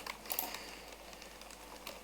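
Keys on a computer keyboard clatter faintly in quick, irregular clicks during PC game building, heard alone against a quiet background hiss.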